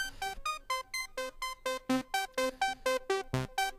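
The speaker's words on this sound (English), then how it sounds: "So what you hear is the sequence running up here." Apollo step sequencer running a pattern in sync with a Cubase host clock, only its A channel active: a steady train of short, bright synth notes stepping through varying pitches at an even quick pulse, alone with no talking.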